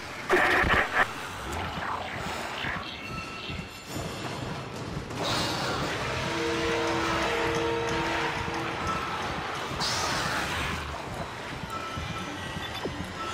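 A tram ride in the Dead Space video game gives a steady mechanical rumble with a high whining hum, building into a louder sustained drone with occasional clunks.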